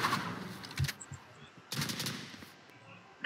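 Gunfire in the Valorant video game: a couple of sharp bursts of rapid shots around the first and second seconds, loud and close, separated by quieter gaps.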